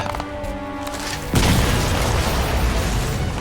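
A grenade goes off in the shooter game Crysis 2, a sudden loud blast breaking through a low droning background and leaving a sustained, rumbling roar that fills the rest of the moment.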